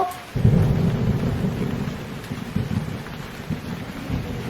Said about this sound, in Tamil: இந்த இடி இடிக்கிற சத்தத்தை கேட்டால் எனக்கே பயமாக தான் இருக்கு